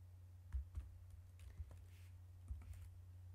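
Sparse keystrokes on a computer keyboard while entering text in embroidery software, a handful of soft, irregular clicks over a low steady hum, quiet and close.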